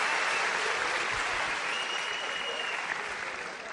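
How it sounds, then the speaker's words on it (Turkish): An audience rises in a standing ovation, sustained dense clapping that stays loud throughout and eases slightly toward the end, with no speech on top. "ben olağanüstü, ayakta alkışladım ilk defa"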